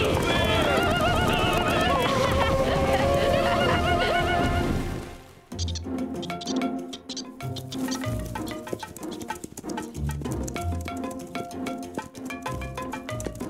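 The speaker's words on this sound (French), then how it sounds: "Les chevaux sont là!" Horses neigh and whinny loudly in an animated cartoon, several whinnies over galloping hoofbeats and busy action sounds, with music and voices mixed in.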